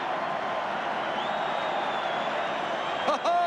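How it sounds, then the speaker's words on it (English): A rugby league stadium crowd roars after a try in a steady, dense wash of cheering that holds level throughout, with a brief louder swell near the end. "Listen to the crowd."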